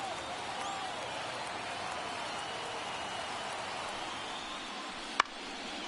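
Steady, diffuse roar of a baseball stadium crowd in MLB The Show, holding at an even level through a tense ninth inning with one sharp transient near the end.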